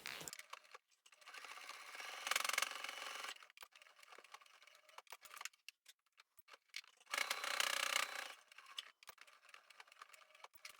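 A domestic sewing machine stitches across the bottom edges of a fabric tissue holder, two close whirring runs of rapid mechanical chatter separated by quieter clicks and handling, no talk.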